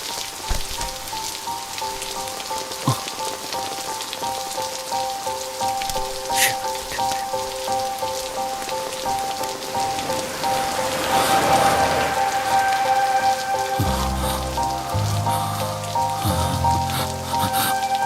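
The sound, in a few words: rain falling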